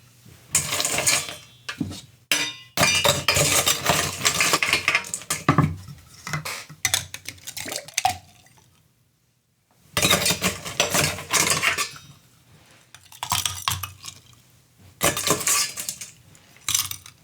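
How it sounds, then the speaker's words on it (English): Ice dumped into a cocktail glass while making an American Collins, with clattering, rattling bursts of cubes striking glass close by, broken by short pauses and a near-silent gap before more tumbling. "Now we'll dump our ice in there."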